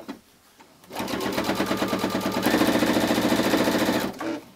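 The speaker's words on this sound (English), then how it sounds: "Couple stitches forward, couple stitches back to anchor this." A Jubilant sewing machine stitching quilt binding, a quick rhythmic whirring motor run of about three seconds with a brief pause, starting and stopping cleanly with nothing else around it.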